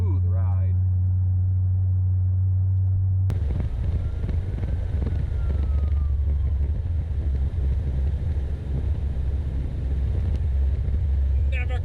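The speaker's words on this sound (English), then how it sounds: "Still it's a little loud since the mufflers and exhaust have fallen off, but very smooth ride." A 1984 Ford LTD Crown Victoria with its mufflers and exhaust fallen off, driving with a loud, steady low engine drone and road rumble throughout, joined by wind noise partway through.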